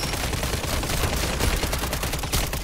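A submachine gun in MW3 Zombies fires a continuous, dense stream of rapid shots, loud and close, the bursts blending into an unbroken roar with no pauses and no voices.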